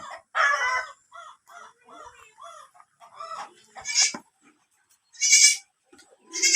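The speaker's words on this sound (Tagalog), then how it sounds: "ilipat natin lahat yung ating mga kambing dito sa bahay kambing" Several goats bleat in short bursts near and far at a goat shed on a farm in Oriental Mindoro, with a rooster crowing and clucking fowl in the background; a few faint voices.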